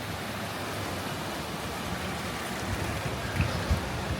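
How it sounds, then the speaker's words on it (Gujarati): Steady, dense rainfall at night hissing continuously, with a few heavier drips and splashes standing out near the end. "અત્યારે ખાસો એવો વરસાદ આવે છે"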